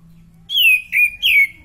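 Oriental magpie-robin (kacer) singing three clear, bright whistled notes in quick succession, loud and close, with faint low background hum.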